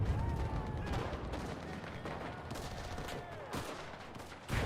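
Mortar tubes fire repeatedly in the Enlisted video game during a Battle of Berlin match: dull, thudding launches mixed with distant gunfire and explosions in a dense, continuous battle din, with a whistling tone gliding through.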